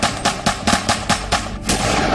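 Gunfire inside a prison during a gang clash rattles out in a fast, fairly even burst of roughly seven loud shots, one after another, with no voices.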